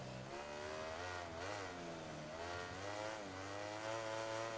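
Yamaha racing motorcycle engine in the video game MotoGP 17, at the United States GP, droning loudly and steadily with pitch rising and dipping as the throttle shifts, close and continuous with no talk.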